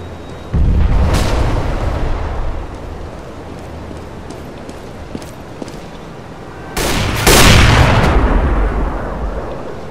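A flashbang grenade blasts in a military video game amid gunfire, two heavy booming bursts with sustained rumble between scattered sharp shots.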